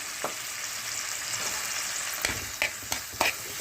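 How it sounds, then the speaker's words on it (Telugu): Tomato pieces frying in oil in a pan for a cucumber-tomato chutney, a steady bright sizzle punctuated by several scraping stirs toward the end, close and fairly loud, without speech. "ఇలా టమాటో ముక్కలు చక్కగా ఈ నూనెలో మగ్గితేనే బాగుంటుంది"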